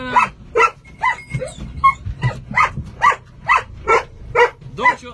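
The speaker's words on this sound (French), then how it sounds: "tu peux sortir le chien comme ça il va arrêter d'aboyer" A dog barks repeatedly inside a parked car after the drive to a hike, with about a dozen sharp, evenly spaced barks mixed with whiny yips, close and loud over a low engine-like rumble.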